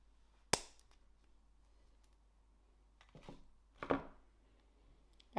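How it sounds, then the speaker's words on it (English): A memory wire cutter snips through three coils of bracelet memory wire, giving a few sharp, isolated clicks spaced apart in a quiet room, with no talking. "get my 3 memory wire coils and cut them with my memory wire cutter"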